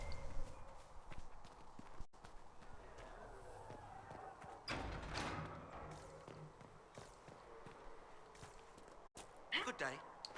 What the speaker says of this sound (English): I love this horse.